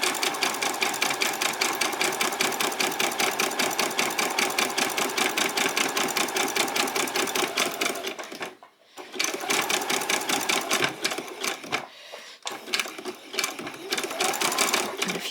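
A domestic sewing machine runs steadily in quick, even rhythmic stitching while back-stitching a seam on a basic dress, with two short pauses where the needle stops briefly before resuming; a voice speaks faintly underneath.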